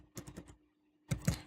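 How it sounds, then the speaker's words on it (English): Typing on a computer keyboard: a quick burst of four close keystrokes, a brief pause, then another dense cluster of taps. "I'll type in Google"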